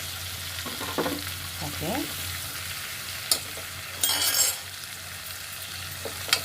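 Curry ingredients sizzle steadily in a hot pan while a spoon stirs through them, with scraping sweeps, a few metallic clinks and short louder bursts of crackle; a voice speaks one brief word.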